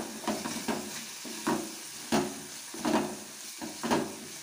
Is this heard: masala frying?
yes